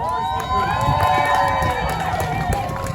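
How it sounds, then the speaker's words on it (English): A crowd at an outdoor protest rally applauds and cheers for its speakers, a sustained burst of clapping and whoops that stays loud and lively throughout. "One other round of applause for all our speakers."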